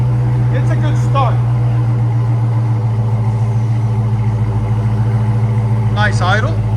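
A Dodge Challenger SRT Hellcat with Black Widow Angry Housewife exhaust idles up close, a loud, low, steady lumpy rumble throughout, with a person briefly speaking over it twice.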